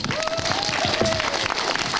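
Applause greets the head of the Ukrainian Greek Catholic Church at a parish kindergarten, a dense patter of clapping hands with a voice rising and falling above it throughout.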